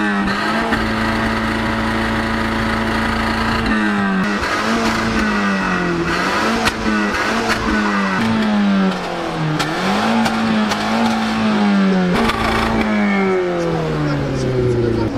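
A 1.6 hybrid car engine revs repeatedly, rising and falling in pitch with a rough mid-range drone; the engine is old and burning oil. People talk nearby over the loud running engine.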